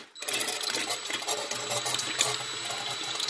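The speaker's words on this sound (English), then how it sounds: "I'm just going to start puking oil out here" Oil gurgles and sputters through a Suzuki Hayabusa engine while it is cranked for oil pump priming, a close, busy splashing churn over a mechanical whir, starting abruptly and carrying on steadily with no voices.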